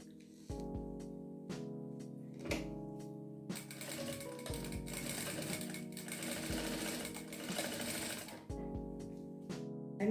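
Sewing machine stitching patchwork fabric pieces for a coaster, a steady mechanical whirring hum with fast needle clatter running in several bursts and short pauses, close and loud.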